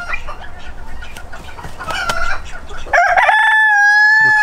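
Backyard breeding-flock chickens cluck in short bursts, then one bird lets out a loud, long, drawn-out call that holds to the end, close by.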